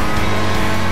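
A race car engine in GTA V Online drones loud and close during a race, holding a steady, strained roar as it accelerates.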